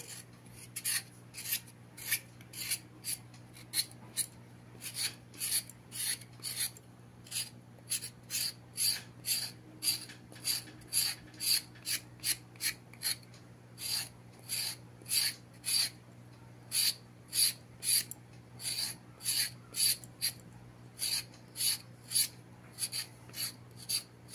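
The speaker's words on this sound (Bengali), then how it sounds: "প্রথমে পটলটার খোসাগুলো এইভাবে ছাড়িয়ে নিতে হবে।" Pointed gourds (potol) scraped to peel off their skin, a close, quiet run of short rasping strokes in a steady rhythm, roughly one or two per second, over a low constant hum, with no talk.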